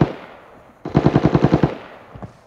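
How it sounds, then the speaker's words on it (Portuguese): A boss character's machine gun fires in the shooter game Arena Breakout, a rapid burst of about ten sharp, evenly spaced shots after a fading earlier blast, loud and punchy, then a short decaying tail. "Mano, os boss estão atirando e..."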